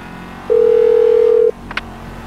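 A single steady speakerphone call tone sounds in GTA V, a loud one-second beep standing alone, followed by a faint brief click.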